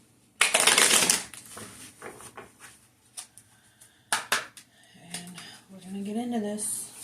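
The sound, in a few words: shuffling a deck of tarot cards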